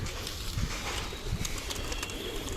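Rooftop loft pigeons coo in a steady low murmur that continues throughout, with a few louder throaty pulses close by and a faint hiss of ambient noise.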